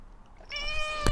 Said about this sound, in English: The cat is very distracting.